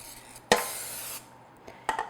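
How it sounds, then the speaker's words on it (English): A can of non-stick cooking spray hisses into a tart pan in one close, sharp burst of about half a second after a click, followed by a short clatter of the pan. "I'm just going to spray this with the non-stick spray"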